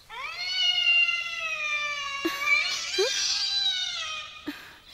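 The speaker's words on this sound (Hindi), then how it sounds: "म्याऊं।" A single long, drawn-out cat meow with rising and falling pitch, close and fairly loud, followed by a few softer chirping meows.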